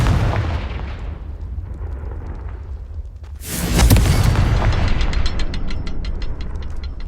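Fiery Confringo blast spell from the Hogwarts Legacy game on PS5, a sudden loud explosive burst partway through, followed by crackling, sizzling debris over a rumbling background.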